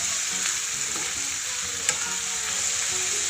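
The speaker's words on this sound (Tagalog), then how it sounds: "Malapit na maluto guys ang ating ubod ng kawayan. Ginisang ubod ng kawayan guys." Bamboo shoot heart (ubod ng kawayan) sautéing in a pan as ginisang ubod, giving a steady close sizzle and crackle of frying with faint stirring scrapes and no talk.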